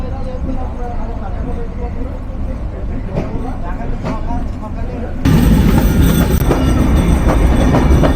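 The Madhumati Express pulls into Bheramara station with a rumbling rail roar, squealing wheels and clacking wagons that grow suddenly louder partway through, while voices carry on the platform.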